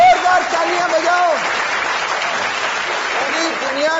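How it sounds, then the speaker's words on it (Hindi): A reality show finale audience keeps up loud, dense applause for the season's winner, a steady roar of clapping with a voice briefly heard over it at the start and end. "जोरदार तालियां बजाओ"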